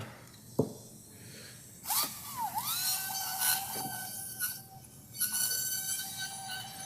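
A high-pitched surgical drill whines in several bursts during spine surgery, its pitch dipping and rising as it bites, with sharp clicks in between.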